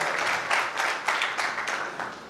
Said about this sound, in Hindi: एक ताली प्रवीण के लिए बनती है